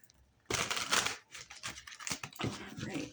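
Rider-Waite tarot cards are shuffled close up, giving a run of quick papery riffles and flicks in a few short bursts over about three seconds.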